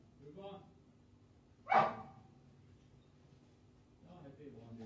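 During a police arrest at an apartment, a police dog lets out one sharp, loud bark between stretches of officers talking, with quieter vocal sounds before and after.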